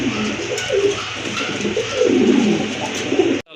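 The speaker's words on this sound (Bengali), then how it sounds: "আরেক জোড়া কবুতর, লাহোরি কবুতর।" Lahori pigeons coo steadily up close, soft repeated throaty calls overlapping continuously without any talk.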